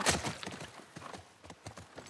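Rapid hoofbeats of a galloping horse in the video game The Last of Us Part 1, a quick irregular clatter of thuds close by, with no voices over them.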